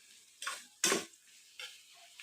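Onions frying in a pan for egg bhurji, stirred with a utensil: a few short scraping strokes and clinks against the pan with a faint sizzle between them, near and fairly quiet.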